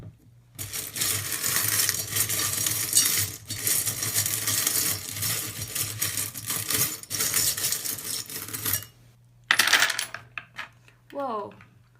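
Small metal pieces clatter and jingle continuously as they're shuffled, a dense rattling that pauses briefly, then resumes in short bursts.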